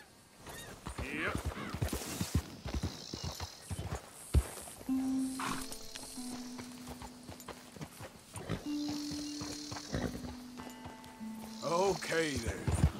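Horse hooves clip-clop in the video game Red Dead Redemption 2, soft irregular thuds mixed with horse snorts and whinny-like tones, moderately quiet, with a voice speaking over them.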